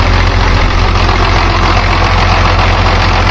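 A loud, close tractor engine, a Farmall or Case, idling steadily just after starting, with a low rhythmic chugging that holds constant the whole time.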